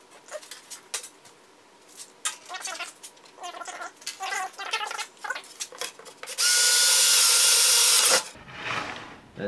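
Power drill with a dull bit boring into plywood, heard as scattered close tapping and scraping followed by a loud, steady whirring burst of about two seconds that cuts off abruptly.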